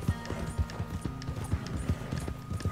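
Horse hooves clip-clop in a steady trotting rhythm in the Red Dead Online video game, moderately quiet and close, each hoof strike distinct against a low background.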